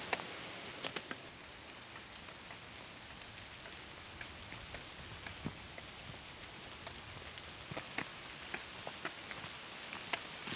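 Steady rain patters on leaves and ground in a mountain forest near a cave on the Untersberg, with scattered close drips standing out over a constant soft hiss, no voices.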